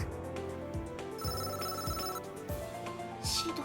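A phone ringtone rings in the Date A Live video game as a call is placed from Shido's phone, a melodic tone repeating over steady game background music.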